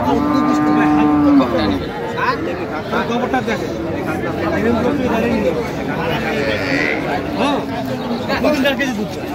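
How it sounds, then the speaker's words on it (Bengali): Cows and calves at the Ambari cattle market let out loud, drawn-out moos, one long call up close at the start followed by more lowing amid a busy murmur of talking people. "গাভী বাছুর।"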